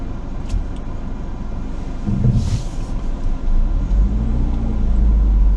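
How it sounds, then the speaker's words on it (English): A car coming down a road on a mild February day, a low rumbling engine and tire drone that swells and grows nearer and louder toward the end, with no talking. "as soon as this here car comes on down the road"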